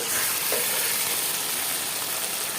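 Pieces of domestic duck meat hit hot oil in a wok, giving a steady, close broadband sizzle that holds evenly for a few seconds with no voices.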